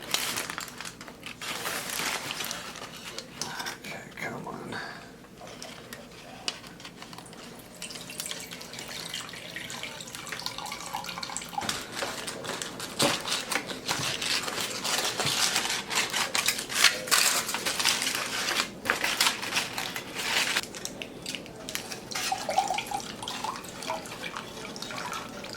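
Cooking liquid from oven-roasted BBQ ribs is drained off a cookie sheet in continuous trickling and dripping, mixed with foil crinkling and pan clatter, close and fairly loud throughout.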